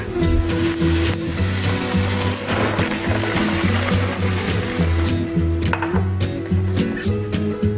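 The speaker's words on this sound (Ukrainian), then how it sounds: "Вливаємо вино та додаємо зелений горошок." Loud, continuous sizzling and crackling from a hot pan as wine and green peas hit it, with bubbling and occasional clinks throughout.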